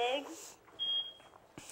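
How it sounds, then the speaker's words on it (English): A faint, thin electronic beep sounds once in a quiet room, a short steady tone between soft voices. "Ooh, we got a beep."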